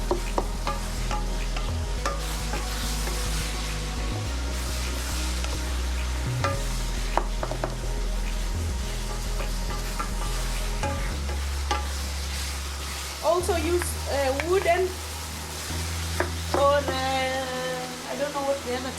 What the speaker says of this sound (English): I'm gonna cook the meat for like a minute more because now you see it's brown and even.